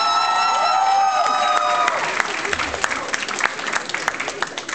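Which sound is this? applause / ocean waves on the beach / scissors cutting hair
applause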